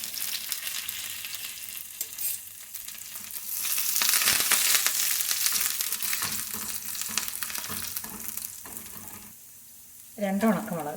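Mustard seeds, shallots and curry leaves sizzle and crackle steadily in hot oil for a Kerala tomato drumstick curry, swelling louder midway with stirring scrapes, then a brief voice near the end.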